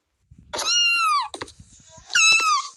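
A cat meows twice in a video game, each a loud drawn-out call with a falling pitch, separated by a brief pause with a faint thump and soft background game noise.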